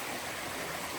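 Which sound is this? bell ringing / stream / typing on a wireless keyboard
stream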